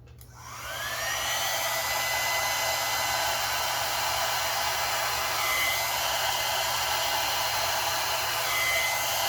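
A blow dryer drying acrylic pour paint runs steadily and loudly throughout, a constant whooshing roar with a faint whine, starting up at the very beginning.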